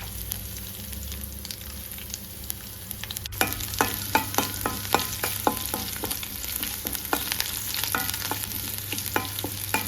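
Mustard seeds, curry leaves and crushed garlic go into hot oil for a sweet mango pickle, giving a close, steady sizzle. Sharp popping crackles rise after a sudden jump in level a few seconds in.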